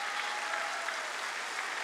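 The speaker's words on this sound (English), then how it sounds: "You folks over 60 ought to be clapping your hands off right about now." A church congregation at a sermon breaks into dense, sustained applause, a steady roar of many hands clapping throughout.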